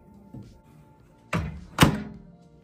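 A microwave oven door shuts with two quick thunks about half a second apart, close by and fairly loud, after a faint earlier knock, in a home kitchen while a bowl of beaten egg for omelette curry goes in.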